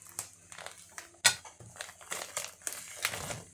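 Plastic packaging of a small envelope pack crinkles and crackles as it is cut open and handled with scissors, a sharp snap near the start followed by bursts of rustling, close and alone.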